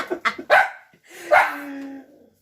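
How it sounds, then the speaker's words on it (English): A dog barks close by, a few quick yips and then a longer whining bark, loud and alone. "if I hear a dog in the background"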